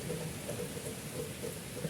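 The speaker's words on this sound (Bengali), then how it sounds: "একটু বৃষ্টিতে কিভাবে ভিজছে" Steady, faint rain falling outdoors during a wet fishing trip, a soft continuous patter with a low rumble underneath and no voices.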